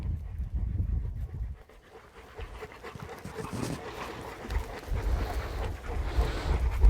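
A dog pants in quick, breathy bursts close by, over a rough, windy background hiss that stays steady for several seconds, with no talking.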